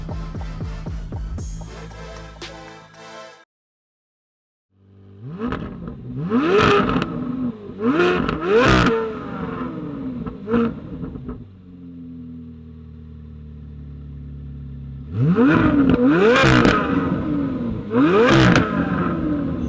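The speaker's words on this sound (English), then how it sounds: "when this gets into its high RPM range, it's going to sound really, really awesome" A 2024 Corvette Z06 with a titanium exhaust revs hard to high RPM in several loud, close bursts, each one climbing sharply and then dropping away, with short idle gaps between them.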